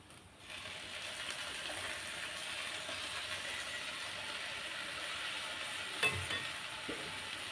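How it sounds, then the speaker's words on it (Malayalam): Okra stir-fry with onion, green chillies and curd cooks on a low flame, giving a soft, even sizzle throughout with one brief stir or scrape near the end. "ചെറുതീയിൽ നമ്മുടെ മെഴുക്കുരട്ടി റെഡിയായിക്കൊണ്ടേയിരിക്കുന്നു."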